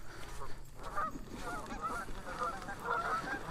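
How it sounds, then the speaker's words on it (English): Geese honking near a drained lake after a dog disturbed them, a continuous jumble of overlapping honks and cackles at moderate distance, fairly faint, with no talking. "I don't know if you guys can hear all the geese or not, but my dog just made them not too happy."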